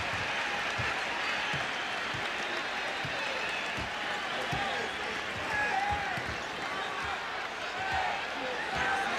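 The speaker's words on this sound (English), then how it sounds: "Crowd counting the seconds off." Basketball arena crowd during a 1989 Bulls vs Pistons playoff game, a broad steady roar with faint ball bounces and a broadcast announcer talking over it.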